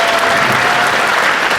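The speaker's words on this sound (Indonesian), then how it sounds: "Tepuk tangan sekali lagi dong." Dense, loud applause from a ballroom audience at a school reunion, steady and close with no talk over it.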